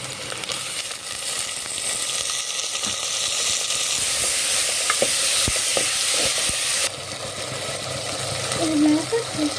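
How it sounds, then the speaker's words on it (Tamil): Garlic and tomatoes sauté in a pan for fish curry, a steady loud sizzle with occasional stirring clicks throughout, while a person talks over it. "இது லைட்டாக வதக்கிட்டு நம்ம தக்காளி சேர்த்துக்கலாம்."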